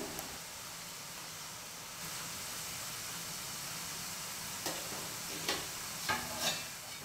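Omapodi, thin gram flour noodles, frying in hot oil and being flipped. A steady close sizzle hisses throughout, with a few soft clicks and taps near the end.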